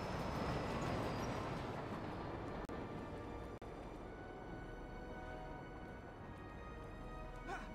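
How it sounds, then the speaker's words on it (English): A train rushing past in the Spider-Man 3 video game, a loud continuous rumbling roar with a broad noisy wash that holds steady, then eases slightly near the end. "almost got hit by the train"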